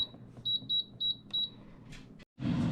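A Gourmia air fryer beeps in a rapid series of short, clear electronic tones prompting food to be added, then a brief rustle, a moment of silence and a burst of handling noise.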